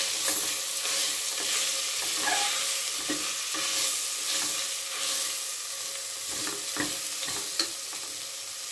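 Toor dal being stirred into a hot, sizzling tempering in a pan while cooking bottle gourd dal, with steady frying crackle and repeated close scraping stir strokes throughout, no voices.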